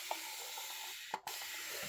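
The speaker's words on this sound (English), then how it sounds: "I'm using my Spellbinders water sprayer." A quiet, steady hiss of fine misting spray, broken by a brief sharp pump or click partway through.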